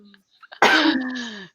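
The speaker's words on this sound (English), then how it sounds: "We're still all getting over our colds and coughs." One loud, raspy cough lands close by after a few small mouth noises, from someone getting over a cold.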